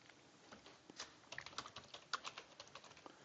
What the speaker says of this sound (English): let me just help him by typing it in